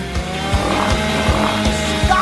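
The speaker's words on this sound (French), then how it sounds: "Range la scie tout de suite. Détendez-vous, j'en ai besoin pour couper le Twix." A harsh, buzzing motorized saw cuts through a Twix chocolate bar, grinding steadily with rhythmic surges, loud and close, no voices over it.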